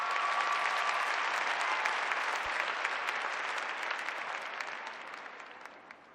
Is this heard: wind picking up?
no